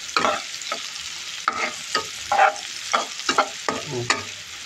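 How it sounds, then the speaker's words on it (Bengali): Onions frying in hot ghee and oil in a pan for a spiced koi fish curry, with a steady sizzle broken by a series of sharp scraping stirs at irregular intervals, close and loud with no talking. "এখন আমি সুন্দর করে পেঁয়াজটাকে একটু ভাজা ভাজা করে নেব।"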